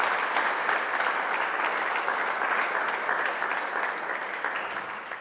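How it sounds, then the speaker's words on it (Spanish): A church congregation at a Mass for the Third Sunday of Easter gives loud, sustained applause. The dense clapping fills the room steadily and eases slightly toward the end, with no speech over it. "Démosle un fuerte aplauso al Señor"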